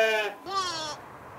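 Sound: sheep bleating

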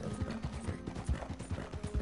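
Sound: White Arabian horse hooves in Red Dead Redemption 2 video game

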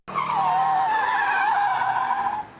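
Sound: car drifting, tires skidding

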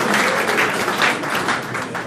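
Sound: audience applause at a launch party

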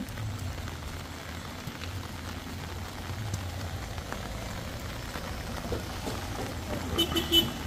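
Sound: rain falling at a construction site

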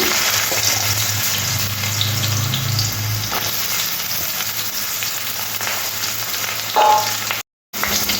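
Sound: cut potatoes frying in hot oil in a wok

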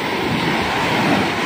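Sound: sea waves

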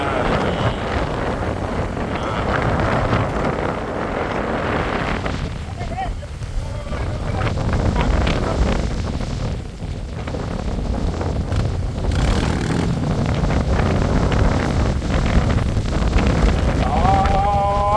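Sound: very strong wind blowing into the microphone

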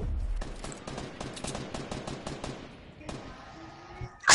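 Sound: gunfire in a shooter video game

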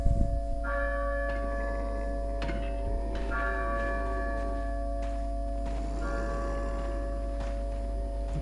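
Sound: village church bell ringing in video game Resident Evil 4

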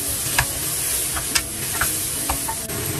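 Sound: stir-frying tomatoes in a pan

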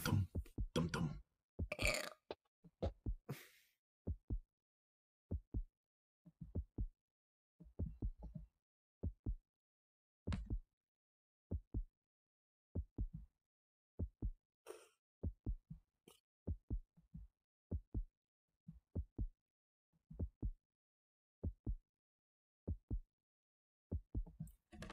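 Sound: heartbeat sound

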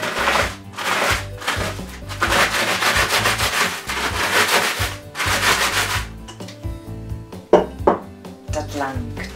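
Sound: crushing biscuits in a freezer bag with a rolling pin

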